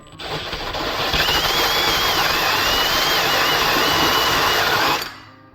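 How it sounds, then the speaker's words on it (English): A steady, loud drill whine runs continuously for about four seconds while boring through drywall, then cuts off abruptly. "go crazy with this with the drill, because it will drill all the way through with no hesitation"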